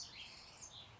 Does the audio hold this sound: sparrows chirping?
yes